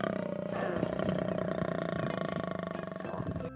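A big cat, lion or tiger, gives a low rumbling growl-like roar, continuous and close, with a throaty pulsing texture throughout.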